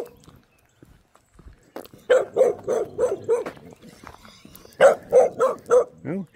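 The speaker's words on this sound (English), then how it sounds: "they're barking at you, like, get away." A dog barks territorially in short repeated bursts, two quick volleys of loud, close barks separated by a pause, ending in a lower drawn-out note.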